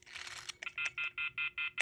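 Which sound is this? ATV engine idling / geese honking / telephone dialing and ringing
telephone dialing and ringing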